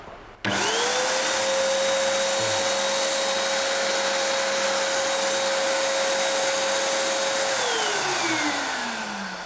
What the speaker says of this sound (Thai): เดี๋ยวผมจะลองเปิดให้ดู อ่ลองฟังเสียงดูนะครับ